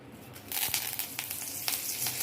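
Curry leaves hit hot oil in a pan while making sabudana chivda, a sago snack, setting off a loud, steady sizzle with crackling pops scattered over about two seconds and no talk.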